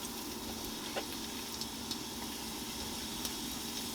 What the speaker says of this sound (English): we're just going to drop these in and let these get brown and crispy